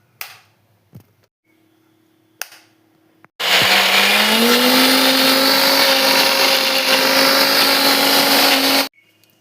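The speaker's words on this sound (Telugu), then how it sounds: "మిక్సీ పట్టేసుకుందాం వీటిని" A kitchen mixer grinder whirs loudly for several seconds while grinding boiled amla (Indian gooseberries), with its motor pitch rising as it spins up, after a few faint clicks and a low hum.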